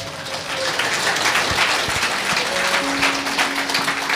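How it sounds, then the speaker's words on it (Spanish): Steady applause from a church congregation during a Spanish and Quechua service, with dense, rain-like clapping that holds at an even level and faint tones under it. "Fuerte aplausos, Iglesia de Cristo"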